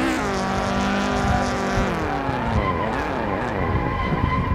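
A car drifts in the Assetto Corsa racing game, its engine droning steadily while the tires skid and squeal in long, wavering tones throughout.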